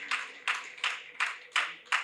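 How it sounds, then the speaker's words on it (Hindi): An audience at a Hindi poetry recital claps together in a steady rhythm, six sharp, evenly spaced claps close by. "उस महाराणा प्रताप की कविता सुनाने जाता हूं, तब आपकी तालियां मांगता हूं।"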